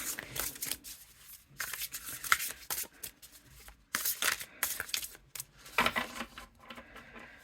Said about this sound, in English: there's only a few decks that I can say that I own that are comfortable to shuffle